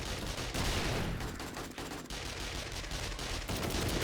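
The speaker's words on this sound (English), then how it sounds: "these ladies are now shooting at their own feet" Gunfire from NPCs in the video game 7 Days to Die: a dense, continuous barrage of overlapping shots, loud and sustained for the whole stretch with no pauses and no talking.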